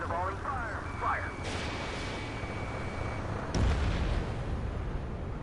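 Artillery volley in Ace Combat 7 booms out as heavy blasts amid a rumbling battlefield, a sharp burst near the start and another deep, loud impact a few seconds later, with radio-style voices talking over parts of it.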